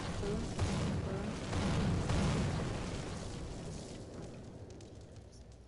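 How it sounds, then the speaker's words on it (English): A trap inside a video game base sets off a fiery explosion, a dense rumbling blast that swells, holds, then slowly fades, close and moderately loud, with a voice partly over it. "as soon as you escape, that blows up and it catches on fire"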